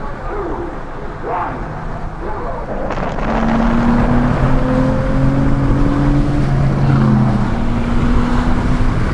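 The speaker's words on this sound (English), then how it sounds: "that induction noise was amazing" A Nissan Altima Coupe 3.5 SE engine roars and builds in pitch with a droning intake growl, loud and close, with wind buffeting the microphone throughout.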